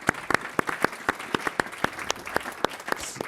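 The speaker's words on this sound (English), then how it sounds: "So I just want to give them a round of applause to start off as well." A conference audience applauds: scattered, distinct hand claps in a steady, moderately quick rhythm over a soft room hum, fairly close and not very dense.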